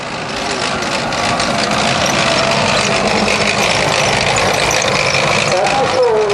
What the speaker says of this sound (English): this vehicle coming on now, this is not a tank, it's something called an armoured personnel carrier